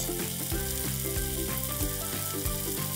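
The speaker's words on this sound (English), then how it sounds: "you can double fry your tofu on higher temperature oil for a minute" Tofu double-fries in hot oil in a wok, a steady loud sizzle with crackling bubbling throughout and faint scraping clicks, no voices.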